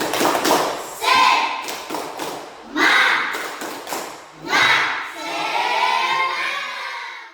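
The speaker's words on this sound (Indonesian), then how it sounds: "Tepuk semangat, ayo." Participants at a teacher training session do a rhythmic spirit clap, bursts of group clapping and thumping in a patterned beat, mixed with chanting voices that come in waves.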